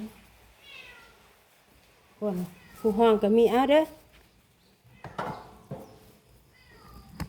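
A cat meows several times close by, with a louder drawn-out wavering meow in the middle, while someone talks softly around it.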